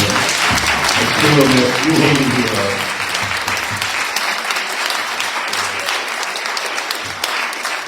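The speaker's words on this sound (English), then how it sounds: "let's have a round of applause" Audience at a community celebration program giving a steady round of applause, dense clapping with some voices mixed in, close and sustained throughout.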